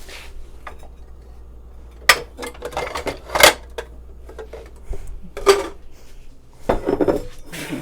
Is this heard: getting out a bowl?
yes